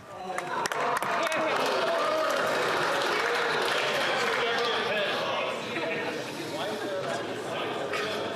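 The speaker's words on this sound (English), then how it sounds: "The Conservatives might want to clap a little less loudly." Conservative members in the House of Commons applaud, a sustained dense clapping from a large chamber that swells quickly and holds steady, fading slightly near the end, with some voices mixed beneath.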